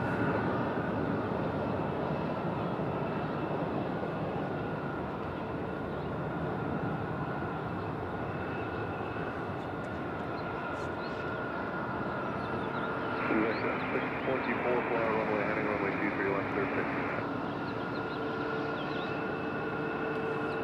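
A Republic Airways Embraer E175 jet operating as United Express at Raleigh-Durham airport, its engines giving a steady broadband roar that stays loud and continuous throughout, with a brief tonal whine rising partway through.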